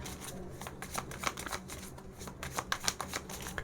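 Tarot cards are shuffled by hand in quick riffling flurries, a close, papery flutter repeating in uneven bursts for a few seconds, with no talking.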